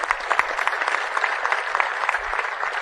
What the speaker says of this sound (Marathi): आपण सगळ्या जणांनी जोरदार अशा टाळ्या मारल्या पाहिजे